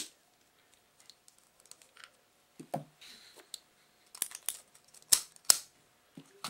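Wire cutters snipping Soft Flex beading wire for earrings, with a few sharp, close clicks and snips among faint handling noises in a quiet room.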